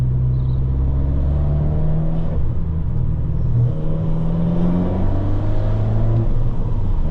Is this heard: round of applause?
no